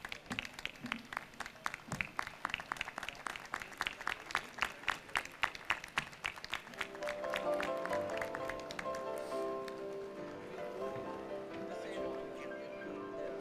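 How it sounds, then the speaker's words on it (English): A steady audience applause at a commencement ceremony, many hands clapping, dense and sustained, fading into a softer rustling murmur toward the end. "Please rise and give them a round of applause."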